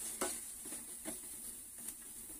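Rajma beans sauté in a little oil, a soft continuous sizzle broken by several light scraping stirs at a loose, uneven rhythm, close by and fairly quiet, with no talking.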